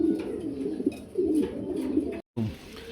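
A male fancy pigeon coos close by in a run of low, throaty, rolling calls, briefly cut off by a short gap before resuming.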